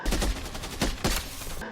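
Dense gunfire from an action-film battle scene aboard a ship about to explode, rapid overlapping shots and bursts filling the whole stretch at steady loudness with no pause.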